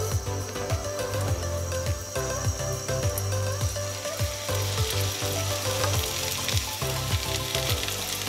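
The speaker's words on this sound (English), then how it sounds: "As soon as they've been dipped in the egg mixture, let's fry them" Egg-dipped Nutella French toast rolls fry in butter in a pan, giving a continuous close sizzle with crackles, while a steady low hum and repeated soft knocks or taps carry through the whole stretch.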